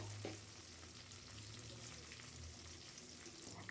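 Coarsely crushed garlic sizzles in hot oil for a tempering of drumstick tomato dal, a soft, steady frying hiss heard faintly up close with a brief clink near the end.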